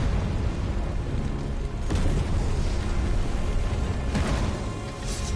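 Tower destruction by Ifrit in Final Fantasy 16: deep, sustained rumbling booms with a louder burst near two seconds and another around four, continuous and loud with no talk over it.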